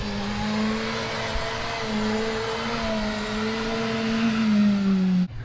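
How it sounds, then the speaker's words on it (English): A loud Kawasaki Teryx H2 supercharged off-road vehicle engine drones and rises in pitch, with a whistling supercharger whine above it and a sudden drop at the end as it flutters; no voices, outdoors. "you can hear that turbo flutter, or that supercharger flutter, like outside."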